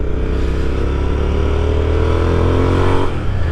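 A 2021 Royal Enfield Continental GT motorcycle with an AEW exhaust revs hard and accelerates, its loud, throaty exhaust rising steadily in pitch before easing off near the end.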